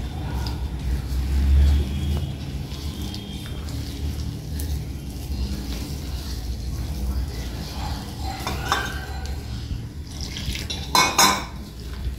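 Chilli bajji batter being mixed by hand with lukewarm water in a bowl gives a steady soft stirring and scraping, with a few sharper clinks of utensils against the dish near the end.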